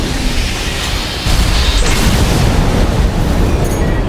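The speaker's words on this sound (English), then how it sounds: "Charge the cannon." A heavy mech cannon blast in the video game Armored Core 6, a loud, sustained roaring boom with dense rumbling noise that swells partway through and holds at full strength.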